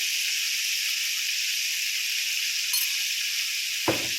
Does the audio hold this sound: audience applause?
no